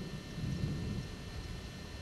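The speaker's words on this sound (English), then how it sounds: "Very, very intense thunderstorm." A deep, steady rumble of thunder from an intense night-time thunderstorm with strong winds near Bagley, Wisconsin, rolling low and continuous for a couple of seconds with no voices.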